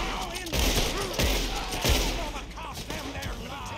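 Gunfire in a video game gunfight in Red Dead Redemption 2: several sharp shots and bursts over a few seconds, with blasts around the first and second seconds and fainter echoing shots after, mixed with background game sound.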